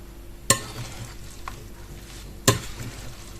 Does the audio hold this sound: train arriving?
no